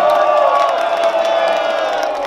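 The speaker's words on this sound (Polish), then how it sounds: "Wielkie brawa! Znaczy takie umiarkowane jednak." A crowd at the Grunwaldzkie Wici 2024 festival in Olsztyn cheers and shouts, a steady mass of voices with whoops sustained across the whole moment.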